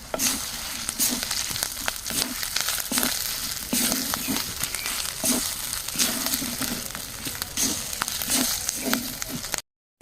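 Spice paste frying in a little oil for a mango and jackfruit kasundi, a close steady sizzle with soft rhythmic scraping as it is stirred, no talk.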